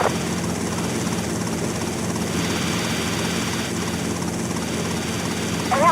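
Helicopter in the video game GTA Vice City, a steady continuous rotor and engine drone that holds at an even level throughout, with no talk over it.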